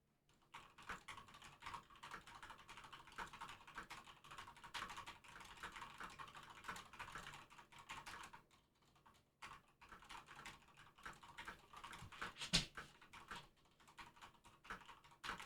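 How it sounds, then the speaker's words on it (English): Rapid typing on a computer keyboard, dense irregular bursts of close key clicks with a brief pause midway, fairly quiet and with no voices. "Typing noises."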